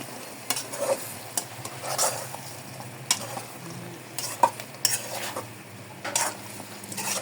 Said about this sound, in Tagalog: Hahaluin na natin ang ating tokwa at mayonnaise mixture para makoat lahat ng tokwa ng mayonnaise.